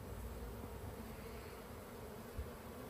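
A large predatory insect hunting bees buzzes steadily as it flies among jars near a hive, a faint continuous drone with no voices.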